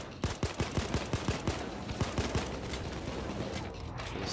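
Rapid bursts of gunfire crack out during a bank heist in the Payday 2 video game, a quick run of loud, evenly spaced shots for the first two seconds before trailing into a dense wash of scattered fire and noise.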